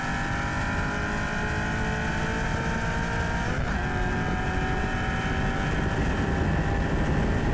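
A Ford Mustang with a 4.6 engine accelerating during a roll race, a steady loud engine drone with rising harmonic whine held throughout, heard from inside or close by with no voices.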